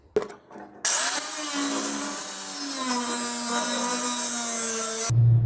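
A power tool cuts through damaged metal on an off-road vehicle body, a sustained loud whining grind with shifting pitch lasting several seconds, starting abruptly after a brief quiet thump and stopping just as sharply.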